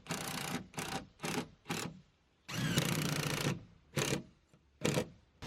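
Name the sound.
driving screws into T1-11 siding sheets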